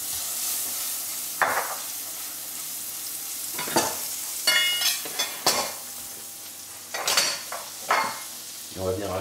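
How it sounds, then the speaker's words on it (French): Butter, 40 g, sizzling in a frying pan on the stove, a steady hiss broken by several sharp clatters of a utensil against the pan, close and fairly loud with no talk. "On va mettre maintenant dans une poêle les 40 g de beurre."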